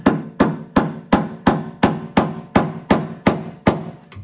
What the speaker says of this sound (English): Get the screwdriver. Tap the ring.